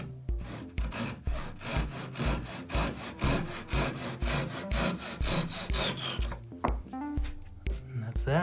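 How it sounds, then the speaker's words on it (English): A wooden dowel fitted into a queen size desk is sanded by hand, giving rapid rhythmic rasping strokes, loud and close, in an even back-and-forth pattern that pauses briefly near the end. "A bit of sanding."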